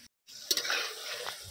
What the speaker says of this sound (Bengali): অল্প আঁচে জাল দিয়ে 5 মিনিট রান্না করে নেব।